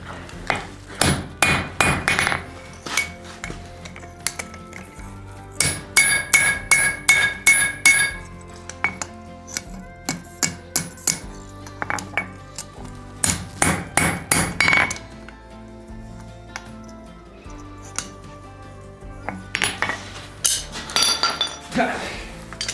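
A blacksmith's hammer forges an iron 18th-century-style trivet, with bursts of rapid, ringing metallic blows separated by short pauses and occasional clinks, up close and loud.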